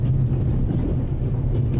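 A train rumbles along in The Raven: Legacy of a Master Thief video game, a steady low droning roll with a faint rhythmic clatter, continuous and close.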